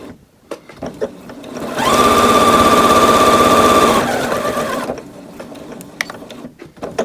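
A home sewing machine stitches around a corner of fabric, running in one steady, close, humming burst of about two seconds, with light clicks and handling noises before and after.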